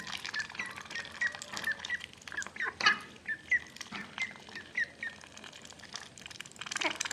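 Ducklings peck and dabble at feed, giving wet slurps and clicks mixed with high peeping calls that come and go, close by and with no talking.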